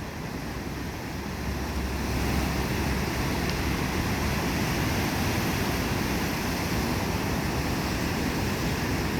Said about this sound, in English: there's some pretty big waves all the way out